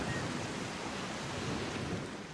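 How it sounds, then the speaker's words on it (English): Ocean waves crash on the shore along Cabrillo Boulevard, a loud, continuous roar of surf with wind-like rush and no voices. "You hear the waves crashing on the shore."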